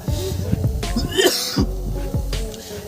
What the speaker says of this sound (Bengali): এর থেকে যে হাইড্রোজেন গ্যাসটা বেরোচ্ছে আমার মুখের মধ্যে ঢুকে গেছে, তার কারণে কাশি